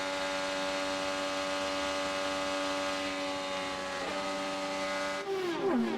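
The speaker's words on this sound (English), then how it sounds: "You heard a breathe of the throttle there with Joseph Newgarden. Went down a gear." IndyCar at the Indianapolis 500 holding a steady high-pitched engine drone, then lifting off the throttle with a brief dip and a downshift blip near the end, heard loud and close.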